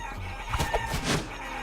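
Chickens clucking and squawking in Guacamelee! as they get beaten up and thrown into pens, with a few loud, close bursts of fowl calls over a steady game background.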